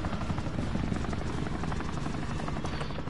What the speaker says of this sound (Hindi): दोनों हेलीकॉप्टर